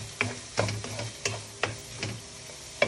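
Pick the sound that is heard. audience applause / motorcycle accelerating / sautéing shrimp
sautéing shrimp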